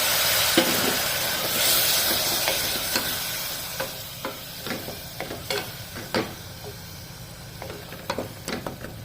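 Masala frying in a little oil in a pan for a mutton curry, stirred with a spoon; a steady sizzle runs under repeated scraping strokes of the spoon, close and moderately loud, with no talking.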